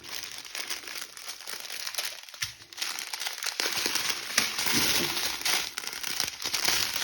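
Plastic packaging from a diamond painting kit crinkles and rustles during unboxing, close and busy. The crackling grows denser and louder in the second half, with a few short pauses and no speech.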